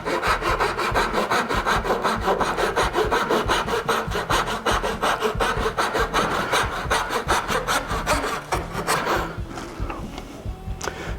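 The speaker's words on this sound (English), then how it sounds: "I have my fine tooth saw here" Quick, regular back-and-forth strokes of a fine-toothed hand saw cutting an angle in a wooden guitar neck, close and steady, slowing and stopping near the end.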